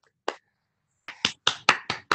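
A clap track sound effect played during an online program wrap-up meeting: a single short burst of applause, a pause, then five quick loud bursts in a row, with no talking.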